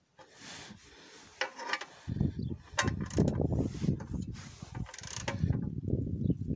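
A wrench turns on the oil filter housing of a 1.6 HDi engine, giving close ratcheting clicks and scraping mechanical rubs in irregular bursts.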